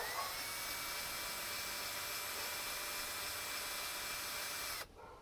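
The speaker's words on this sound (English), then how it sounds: "I don't know how much you can hear with the drill going and me talking" A power drill drives a Flow Hive honey pump, a continuous high whirring drone held at steady loudness, then cutting off abruptly near the end.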